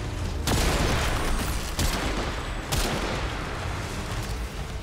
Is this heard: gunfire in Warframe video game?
yes